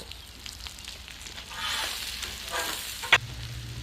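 Spinach sizzles softly on a Blackstone flat-top griddle as it is tossed with a spatula, a low steady frying hiss swelling midway, ending with a brief sharp scrape of metal.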